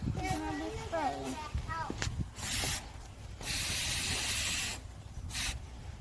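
A spray paint can hisses in loud, steady bursts while coating a topiary turtle succulent in camouflage colours. Someone talks briefly before the long sprays, with shorter hisses between.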